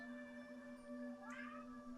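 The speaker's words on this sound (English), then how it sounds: "There is a kitty in the cave." A faint, drawn-out cat meow rises briefly over a steady low hum, quiet and somewhat distant.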